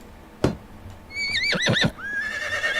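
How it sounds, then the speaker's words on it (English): A horse in the video game Medieval Dynasty gives one short thud, then a loud, wavering neigh and whinny up close, with faint hoof clatter and no talking. "Whoa, our horse took damage."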